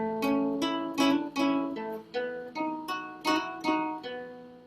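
A guitar plays a four-bar exercise phrase of about a dozen plucked notes with hammer-ons, in a steady, even pulse. The notes are close and solo with no talking, each one ringing briefly into the next.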